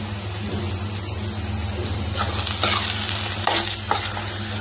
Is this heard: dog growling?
no